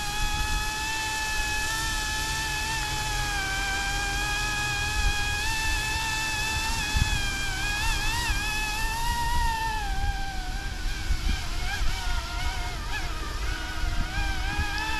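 A coastguard helicopter, likely a model, hovers in a windy front yard with a continuous whining motor tone that rises and dips in pitch, close and fairly loud over wind noise.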